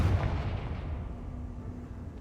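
Confringo fire spell blast in Hogwarts Legacy: one deep, booming burst at the start that fades into a rumbling tail.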